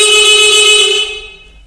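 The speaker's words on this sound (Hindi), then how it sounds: "अगर ये लो पे होगा तो ये हॉर्न में जाके सिर्फ हॉर्न बजेगा" A Honda 70 motorcycle horn blares in one loud, steady honk lasting about a second before cutting off.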